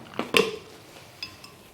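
A spoon stirs protein isolate into milk for a shake, giving a few quick clinks and scrapes against the glass in the first half, then two faint taps, with no talking.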